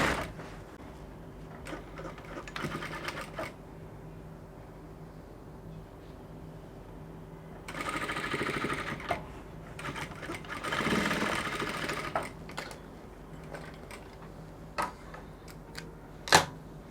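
A sewing machine joins the shoulder seams of a standing-collar bubu dress in short bursts of stitching separated by pauses and small handling clicks, fairly close and moderate in level with no talking.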